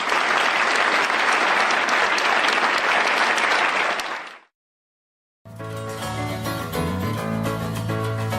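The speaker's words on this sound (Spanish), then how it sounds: "para quien pido un caluroso aplauso" Warm, dense applause from a crowd at a Vox political rally in Burgos, loud sustained clapping that cuts off abruptly, then a short silence before music begins.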